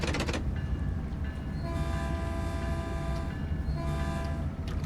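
A Caltrain express passing in Train Sim World 2, sounding a long sustained horn chord twice with a steady rumbling roll of the cars underneath, close and loud with no talking.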